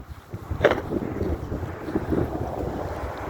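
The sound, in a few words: wind blowing during a snowy outdoor walk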